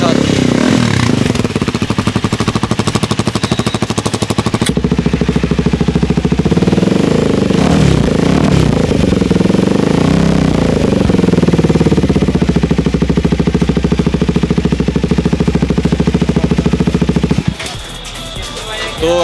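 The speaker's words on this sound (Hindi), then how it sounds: "हाँ ये वाला लियोविंस का एग्जॉस्ट है। इसमें भी आपको डीबी किलर मिल जाता है।" A KTM Duke 390 motorcycle with a LeoVince aftermarket exhaust and dB killer fitted, close and loud, running steadily with sharp bursts and revving that cut off near the end.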